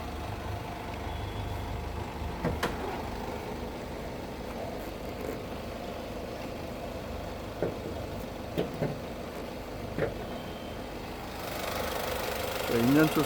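A 2018 Honda City V 1.5 i-DTEC diesel engine idles with a low, steady hum under a person talking, with a few brief clicks and a louder rise near the end.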